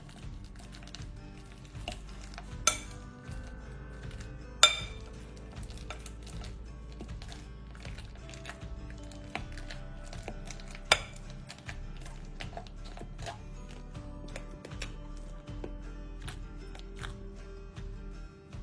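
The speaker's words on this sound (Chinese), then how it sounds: "再捣成泥状" Peeled bananas, 800 g, are mashed into a paste in a large mixing bowl, giving a steady run of soft squelching taps and utensil knocks with a few sharper clacks against the bowl. No talking.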